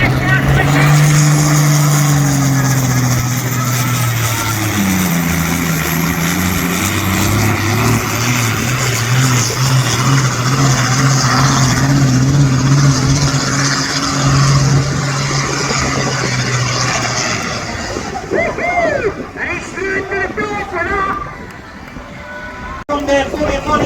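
A tractor engine roars at full throttle during a Scottish tractor pulling event in Brechin, its loud droning pitch rising and falling, then fading as the run ends, while a commentator talks over it.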